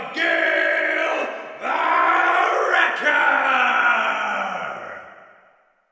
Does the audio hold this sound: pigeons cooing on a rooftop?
no